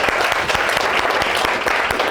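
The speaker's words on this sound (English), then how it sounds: "Give a big round of applause." A big round of applause from the audience at a property investing Q&A session, dense steady clapping filling the room for about two seconds without talk.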